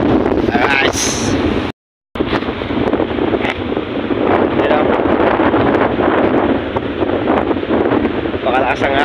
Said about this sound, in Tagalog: Pakalakas ang hangin.